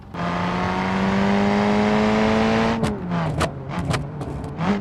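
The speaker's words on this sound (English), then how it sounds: "This car does sound awesome." A car engine in the video game BeamNG.drive revs at a steady high pitch, then drops and sputters through quick throttle blips and gear changes, loud and close.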